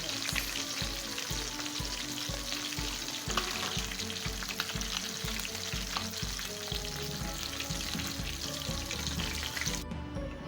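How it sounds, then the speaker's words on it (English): Fish turned in a pot for a seafood boil sizzles and fries steadily and loudly, with a dense crackle and regular low thumps of handling running throughout and no talking. "Just turned over the fish in the pot and allowing them to fry on the other side."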